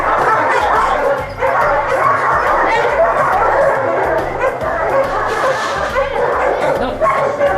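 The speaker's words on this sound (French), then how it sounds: "Alors ça, c'est un chien" Dogs at an animal refuge bark and yip repeatedly, with some whimpering, close and loud, while people talk throughout.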